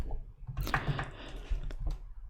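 Fingers type the history command on a computer keyboard in a quiet, whispered Linux terminal session, a quick close run of soft clacking keystrokes with a couple of separate taps after.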